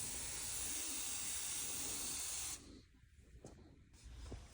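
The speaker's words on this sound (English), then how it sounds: "spray the spring with lube" An aerosol can of lubricant sprays steadily onto a garage door spring, a loud continuous hiss lasting about two and a half seconds before cutting off, followed by faint handling noises.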